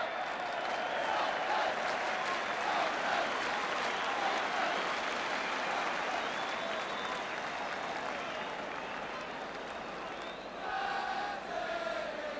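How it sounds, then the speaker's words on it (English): A football stadium crowd applauds steadily and loudly for a goalkeeper's save in a Spurs match, a broad sustained wash of clapping and crowd noise lasting throughout with no break. "the crowd are still, 30 seconds after that save, still roundly applauding Pat Jennings"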